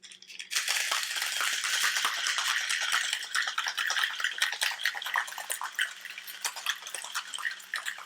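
Ice rattling hard in a cocktail shaker holding white rum, a steady loud shaking that runs on for several seconds with a crisp, dense texture.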